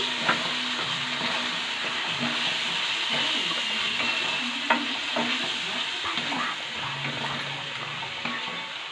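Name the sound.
onions and ginger garlic paste sautéing in a pan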